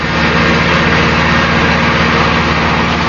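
A loud, steady tractor engine drone runs throughout, a continuous low rumble heard up close without any voices.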